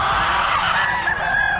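Loud, dense squawking and clucking from several chickens at close range at a poultry market, continuous and agitated with no pauses.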